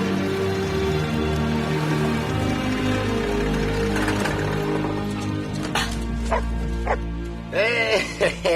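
Dog barking and yipping indoors, bursts of barks with some whimpering over background music, with a person's voice also present near the end.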